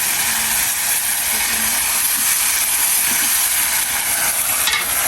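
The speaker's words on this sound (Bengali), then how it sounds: "এবার তেলে বাগার দিচ্ছি" Vegetables tempering in hot oil give off a steady, close sizzle with faint hissing and crackling, continuous throughout with no talking.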